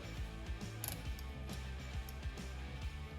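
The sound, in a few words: cone wrench tightening bicycle wheel hub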